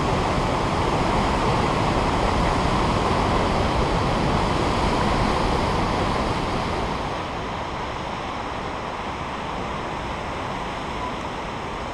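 A small waterfall in the remote Icelandic countryside, a steady loud rushing roar of falling water that eases slightly partway through, with no voices.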